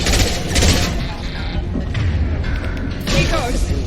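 Mass Effect 2 combat firefight, rapid bursts of sci-fi weapon fire and impacts crackling in dense volleys, loud and close, with squad voices calling out over the shooting.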